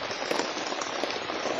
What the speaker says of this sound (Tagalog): At napakalakas ng ulan ngayon